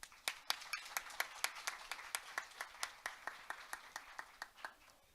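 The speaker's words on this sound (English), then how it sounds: "please welcome our discussant and moderator with a big round of applause" A modest audience at a debate event in Seoul claps to welcome a discussant and moderator, with sparse, fairly regular individual claps, somewhat distant and faint, dominated by a few hands.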